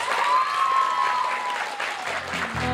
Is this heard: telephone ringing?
no